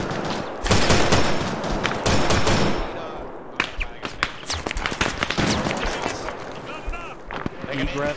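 Machine gun fire in a WWII battle game set at the Third Battle of Kharkov: loud, rattling automatic bursts and scattered sharp shots, with voices audible in the mix.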